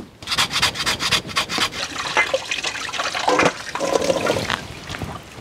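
Water runs and splashes into a pot as the water is changed for boiling beef tongue, a close, steady rushing pour with a little clatter at the start.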